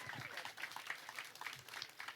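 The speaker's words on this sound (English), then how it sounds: "Please, everyone, huge round of applause" Scattered applause from a small crowd at a Tarawera Ultra Trail event, light and uneven, with a few individual claps standing out over a soft background murmur.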